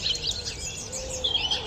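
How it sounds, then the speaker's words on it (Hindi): Soft bird chirps and tweets in the morning, light and high, scattered across the short stretch with no talk. "चिड़ियों की हल्की हल्की आवाज मेरे कानों तक गूंज रही थी।"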